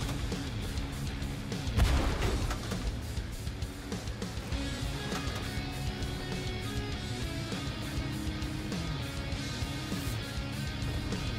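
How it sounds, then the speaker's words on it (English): Artillery bombardment in a World War tank video game, booming impacts with a loud burst near the start, then dense rumbling explosions and crackling blasts layered continuously. "We are under bombardment!"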